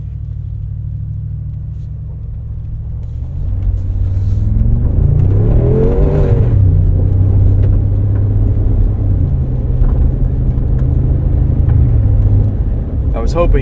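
A 2025 Mercedes-AMG G63 G-Wagon driven off-road, its engine rumbling loud and close, rising into a revving surge with shifting pitch, then holding a steady deep drone, with talk over it.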